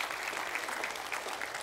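Congregation applause during a Sunday morning church service, a brief steady patter of many hands clapping with a few distinct claps standing out, lasting under two seconds.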